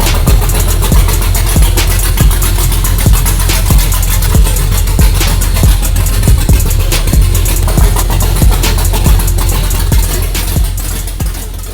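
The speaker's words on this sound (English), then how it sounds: "it's open header right now, so it doesn't have pipe all the way to the back, and this is why it sounds like that" 2003 Chevy Cateye Stepside truck V8 with a stage 3 cam and open headers, loud raw idle with a choppy lopey rhythm and sharp exhaust pulses, close and alone.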